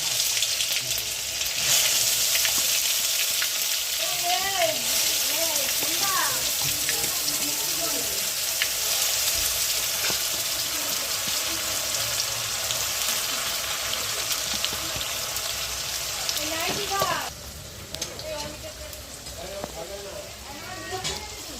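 A ground paste of onion, ginger, garlic and tomato fries in a pan for matar ghugni. There is a continuous close sizzle with stirring scrapes, and the sound drops to a quieter sizzle partway through while a voice talks over it.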